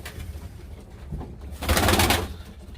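Game pigeons coo inside a coop, soft low throaty calls that swell into a louder, fuller coo near the middle, close by over a faint background hum.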